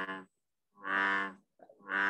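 Green frogs call in a spring wetland chorus: three loud, harmonic croaking calls, each about half a second long, separated by short silent gaps, with no other sounds.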